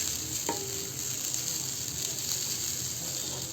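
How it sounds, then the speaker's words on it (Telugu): Steady, soft sizzling of grated coconut frying dry in a pan, with one brief scrape of stirring near the start. "ఇప్పుడు దీన్ని డ్రై అయ్యే వరకు ఫ్రై చేసుకుందాం."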